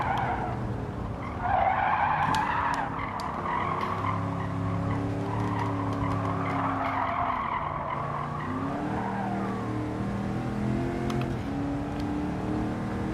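Race car braking hard in Gran Turismo 7, with a sustained tire squeal and skid layered over a droning, downshifting engine for over ten seconds.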